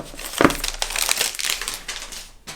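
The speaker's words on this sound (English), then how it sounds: "let's get the plastic packaging off first" Plastic wrapping is crinkled and torn off an iPhone 12 mini box, close and fairly loud, with a sharp crackle early on followed by a run of softer rustling crinkles.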